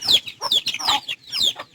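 Hand-fed backyard hens cluck in short repeated bursts, close and clear, with brief pauses between calls and no talking.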